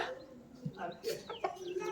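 Roosters kept as offerings at the Bhadragiri Subrahmanya temple cluck in short, scattered calls at close range, over a busy background of other birds and murmuring voices.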